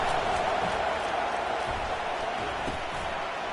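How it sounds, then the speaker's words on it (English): A dense, continuous roar from a packed stadium crowd at an NCAA football game, steady and loud with no breaks, a broadband wash of many voices. "listen to the roar of this crowd"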